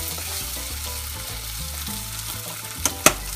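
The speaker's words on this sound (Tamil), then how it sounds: "மேலே திரிஞ்சு வர வரைக்கும் நல்லா ஃப்ரை பண்ணிக்கோங்க" Dried anchovies (nethili karuvadu) fry in hot oil, a steady soft sizzle with stirring, and two sharp clinks or pops near the end.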